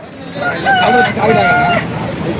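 A rooster at a Sunday poultry market in Nellore crows in a drawn-out call with harmonic, wavering notes, loud against a busy background with some voices nearby.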